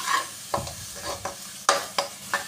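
Spices for spiced matar chole roasting in a pan, a steady sizzle broken by about six sharp scrapes of a spoon stirring at uneven intervals, close and fairly loud with no talk.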